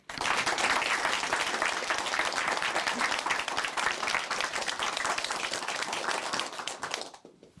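Warm applause from a church audience welcoming a speaker onto the stage, a dense, steady wash of many hands clapping for about seven seconds before fading away at the end.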